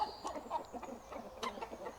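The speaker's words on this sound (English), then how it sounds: "There might be a couple of Warren chickens in there, the standard common breed." Several chickens, including Warren hens, cluck and murmur softly nearby at a woodland homestead in short, irregular bursts, fairly quiet overall.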